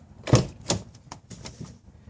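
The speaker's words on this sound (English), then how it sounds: "So I have the door here, which I just opened." Door of a Nissan Maxima fitted with a Stillen front lip body kit being opened up close, giving a sharp latch click followed by a few softer knocks and rattles, with no talking.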